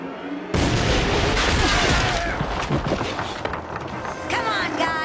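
A cartoon volley of gunfire on a count of three bursts in loudly and keeps going as a dense, chaotic barrage of blasts and booms, with busy action noise layered in over several seconds.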